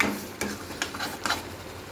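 Rice being mixed into pulihora, a tamarind rice, in a pan makes a few soft, close scraping stirs, each brief swish separated by short pauses over a faint background.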